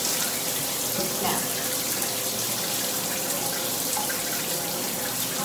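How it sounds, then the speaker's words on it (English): Water runs steadily from a shower as hands are rinsed during an in-shower wash-and-go hair routine, a constant broadband wash of spray heard close, with a single brief spoken word over it. "I'm gonna rinse my hands once more."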